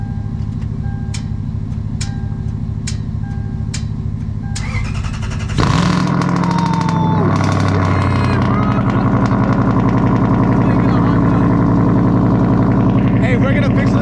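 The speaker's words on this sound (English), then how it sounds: "Let's hear the cold start." A Volkswagen MK4 GTI 20th Anniversary Edition with a faulty starter cold starts. Repeated warning chimes come first, then a sudden crank, and the engine catches into a loud, steady, rumbling idle.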